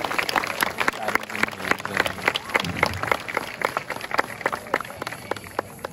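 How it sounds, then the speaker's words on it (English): The crowd at a native-animal wildlife show at Healesville Sanctuary in Australia gives Millie a round of applause: scattered, uneven claps from a modest audience last several seconds, with a presenter speaking over them. "I might want to give Millie a big round of applause"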